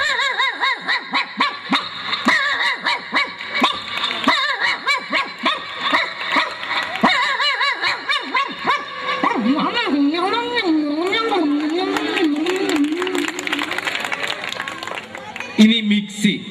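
On a comedy stage, a performer's voice imitates a native stray dog barking with a long run of rising and falling yelps and howl-like tones, while the audience chuckles and laughs.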